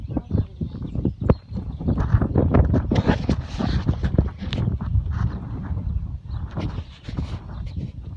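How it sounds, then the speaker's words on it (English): Gusty wind buffets the microphone outdoors, a loud continuous rumble with irregular bursts and crackles throughout. "it's really windy out here"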